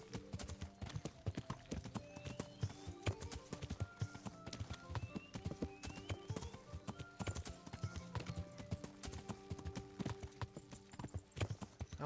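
A horse's hooves clop rapidly and steadily in the medieval video game Kingdom Come: Deliverance, a loud, continuous galloping rhythm close by with a light jingle of tack, and no voices over it.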